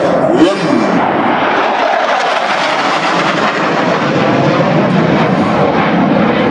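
Two F-16 Fighting Falcon fighter jets with Pratt & Whitney engines roar past at the Roskilde Air Show 2011, a loud, sustained jet rumble and whine that holds steady throughout with no talk.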